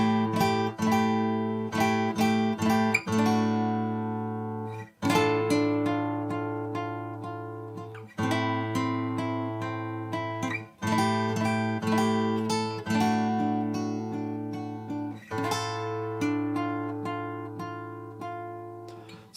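Close-up fingerstyle guitar playing a line of a main theme, with plucked arpeggiated chords and ringing bass notes in loosely timed phrases that start sharply and slowly fade, with no speech.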